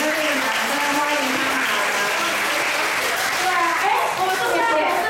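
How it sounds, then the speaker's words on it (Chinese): An audience at a 2022 primary school graduation ceremony in Tainan gives sustained, dense applause that stays even and loud throughout, with faint voices mixed in. "掌声欢迎他们"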